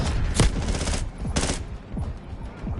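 Rapid bursts of enemy gunfire crackle through a first-person shooter match, with sharp repeated shots clustered in quick volleys and brief gaps between them.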